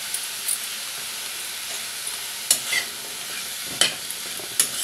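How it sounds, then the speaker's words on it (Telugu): Pumpkin pieces sautéing with turmeric in a pan for a chutney, a soft continuous sizzle with a few brief scrapes and clinks of a stirring spoon, no voices. "వీటిని కూడా చక్కగా మగ్గించుకోవాలి."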